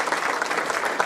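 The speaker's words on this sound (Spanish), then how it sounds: "Recibamos con un aplauso al maestro Antonio." An audience at a history talk in García, Nuevo León, claps in a brief, steady burst.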